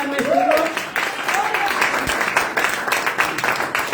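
A church congregation applauding in praise of God during a Spanish-language service, with a broad, continuous roll of clapping under a sung or spoken voice and some tonal sound.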